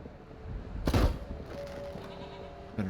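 A goat in The Witcher 3: Wild Hunt gives a single short, moderately loud bleat over quiet game ambience, followed by a faint trailing tone, with no one talking.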